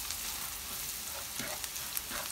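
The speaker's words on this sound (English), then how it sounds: "now we're going to mix it into onions and make sure that all the onions are completely" Spiced onions frying in a pan for asparagus bhaji give a quiet, steady sizzle, with a few soft scraping stirs breaking through near the end and no voices.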